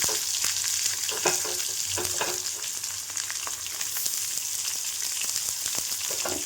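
Ginger frying in oil for Kerala inchi curry, a continuous crackling sizzle with occasional spoon stirs, close and steady, without speech.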